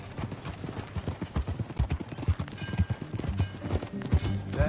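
Horse hooves clip-clop in a steady walking rhythm in Red Dead Redemption 2, close and fairly loud, with faint creaking of tack beneath and no talking.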